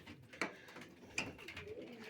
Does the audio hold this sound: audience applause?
no